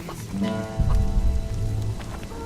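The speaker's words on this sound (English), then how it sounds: "It only ever rains these days." Steady rain in The Witcher 2 video game pours and patters close by, a dense wash of drops that swells slightly partway through, with a low voice-like tone under it.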